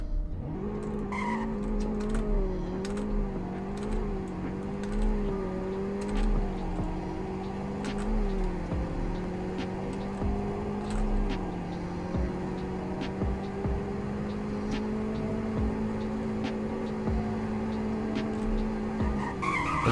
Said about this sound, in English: There's a braking test.